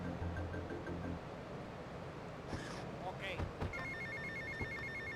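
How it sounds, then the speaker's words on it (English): A telephone rings in Grand Theft Auto: Vice City – The Definitive Edition, its repeated electronic trill sounding over steady game background noise and ambient hum. "However, I interrupted him with a phone call."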